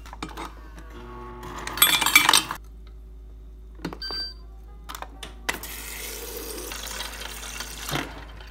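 A Hydro Flask bottle clinks and rattles close by, then water runs into it from a tap for a few seconds with a rising, hollow rush, followed by a short knock.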